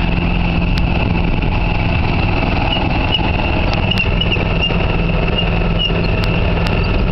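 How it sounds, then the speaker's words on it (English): A 2000 Club Car golf car with a worn-out wheel bearing runs steadily, giving a loud, continuous mechanical drone with faint ticking clicks throughout and no talk. "it sounds like we got a worn out wheel bearing"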